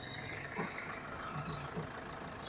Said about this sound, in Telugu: ఇంజిన్ అయితే రన్నింగ్లో ఉంది. టైమింగ్ చేంజ్ ఎటువంటి చేంజ్ అవ్వలేదు, బెల్ట్ రన్నింగ్లో ఉంది చూసుకోవచ్చు.